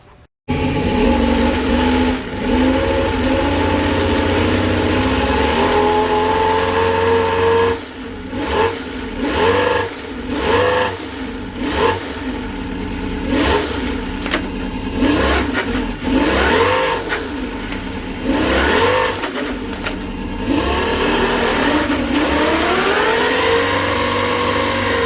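A 1/3 scale RC car with a V10 engine runs on a dyno, a loud buzzing engine note that holds steady and then rises and falls through repeated revving sweeps, close and continuous.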